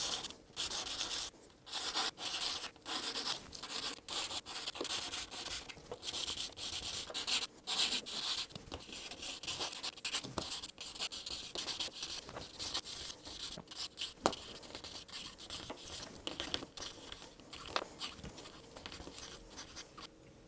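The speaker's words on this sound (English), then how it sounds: "You can use micro mesh sanding pads for that" Steady, close scratchy rubbing of micro mesh sanding pads polishing a guitar nut, continuous strokes with no talking.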